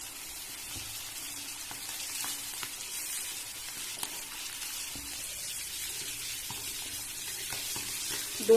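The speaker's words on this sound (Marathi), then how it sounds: "पसरट तव्यामुळे मच्छी फ्राय करायला तेल पण कमी लागतं आणि एकाच वेळी सगळी मच्छी फ्राय करून होईल" Thin fish fries in a little oil on a flat, wide pan, making a steady, soft sizzle with faint crackles and occasional small ticks throughout.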